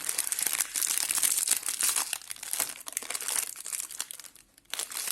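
Crisp plastic crinkling and tearing as an Oreo Double Fun cookie pack's wrapper is opened, continuous close rustling for about five seconds with a brief lull near the end.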